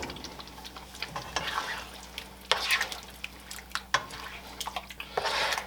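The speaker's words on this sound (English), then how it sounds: "And just mix it in so it's all mixed in" A spoon stirs shrimp fra diavolo in a pan. Scraping and clinking strokes come in irregular bursts over a soft background hum, and there is no talk.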